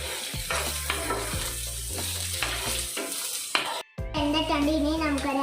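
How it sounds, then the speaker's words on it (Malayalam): Chopped onions fry in a pan with a close, steady sizzle and repeated scraping stir strokes, a short break near the end, then a voice speaks over the frying for Malayalam semiya upma. "അതിലേക്ക് അരിഞ്ഞ് വെച്ച് സവാള ഇട്ട് കൊടുക്കാം"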